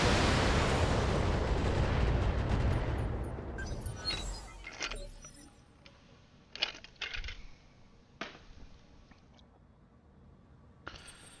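A missile barrage in the Battletech video game, a loud rushing roar of launches and impacts fading out, followed by scattered sharp metallic clanks and bangs at irregular intervals.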